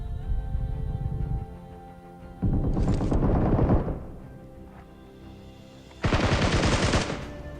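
Gunfire in the mobile battle royale game PUBG Mobile comes in two loud, close bursts of rapid automatic shots separated by a quieter stretch of game ambience.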